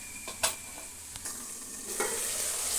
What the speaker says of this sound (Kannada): ನೋಡಿ, ಅದು ಬೇಯೋ ತನಕ ಆಗಾಗ ಹೀಗೆ ಕಲಸಿ